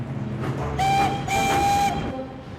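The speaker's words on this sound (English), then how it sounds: "Thomas heard some chuffing and puffing" A cartoon steam engine chuffs and puffs nearby, bright whistle-like tones swelling twice over a rumbling rail clatter, with no voices.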